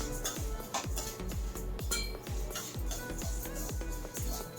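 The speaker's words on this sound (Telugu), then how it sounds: "సౌండ్ వస్తున్నాయో నువ్వులు, ధనియాలు ఇవన్నీ చూడండి ఎంత చక్కగా ఎగురుతున్నాయి" Sesame and coriander seeds dry-roasting in a pan crackle and pop in a dense, steady patter with rhythmic scraping strokes, close and continuous throughout.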